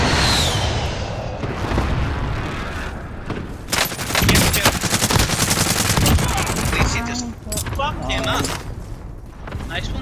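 Gunfire in the Warzone battle royale game: rapid bursts of automatic shots and sharp cracks with booming blasts, loud and dense through most of the span, with voices talking over the action.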